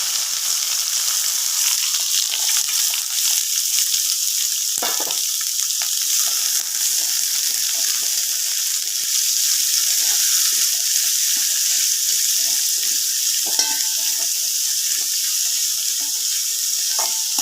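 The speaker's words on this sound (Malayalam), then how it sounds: "നമ്മൾ അരിഞ്ഞു വെച്ചിരുന്ന ഉള്ളിയെ ചേർത്ത് കൊടുക്കാം." Chopped onions frying in hot oil with mustard seeds and whole spices such as cloves and pepper, giving a steady, close hiss and sizzle with occasional stirring clicks and scrapes.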